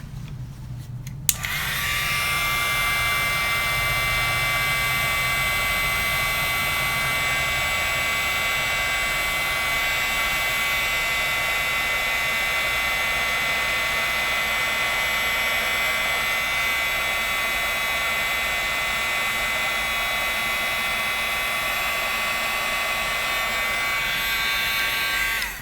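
A heat tool melting embossing powder starts with a click, then blows a loud, steady, high-pitched whine and fan rush that holds unchanged and close for about twenty-five seconds, with no talk.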